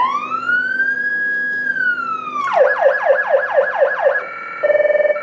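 A loud electronic police siren, a Touchmaster Delta in a video game, sweeps in a long rising wail, then switches to a rapid yelping warble and finally a pulsing tone, with no voices.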